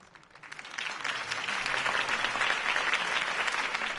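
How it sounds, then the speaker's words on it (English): Crowd applause in a PS4 Batman game, rising after Harvey Dent's campaign speech: a dense, steady wash of clapping that swells within the first second and holds loud throughout, with no talk. "If only Mr. Wayne, my campaign's largest backer, could have heard that applause"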